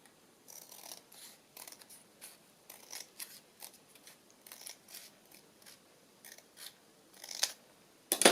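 Scissors trimming paper while journaling, with a string of short, crisp snips at an irregular pace, fairly close and quiet, ending in a few louder cuts.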